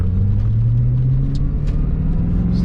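A 1996 Chevrolet Corvette C4 with an LT4 V8 idles and revs gently close by, a steady deep rumble with a slowly rising tone, heard alone without talk.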